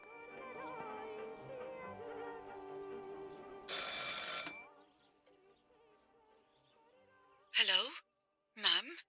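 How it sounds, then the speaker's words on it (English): Two short, bright telephone rings sound alone near the end, after music and a brief noisy burst, in the psychological horror game Martha Is Dead. "I should pick up the phone but remain silent."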